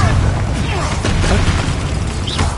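A Confringo fire spell blasts during a Hogwarts Legacy video game fight: dense, continuous booming and crackling bursts over busy combat noise, with voices mixed in.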